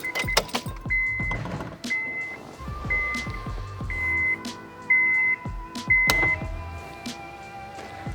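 A power window on a Honda hot hatch runs through a newly fitted window switch, making short motor whirs close by, mixed with small electronic chimes and clicks.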